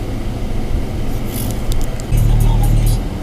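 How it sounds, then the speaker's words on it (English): A car passes close by on a road in upstate New York, a brief rising whoosh of engine and tire noise over steady driving rumble, with a voice talking faintly. "Dude, there's a car coming."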